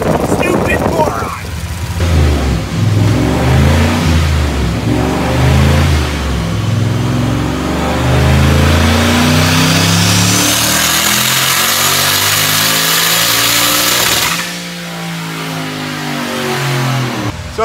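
A turbocharged car making 658 horsepower on 11 pounds of wastegate boost revs hard on a dyno, a loud climbing engine roar that holds high, drops sharply, then builds again, with voices talking over it.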